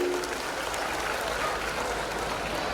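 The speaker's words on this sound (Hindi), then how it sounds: "जोर से ताली बजाओ बच्चों के लिए।" Indoor audience at a school annual day applauding children after a speech. Loud, continuous clapping from a crowd fills the whole short stretch without a break, and no voices rise above it.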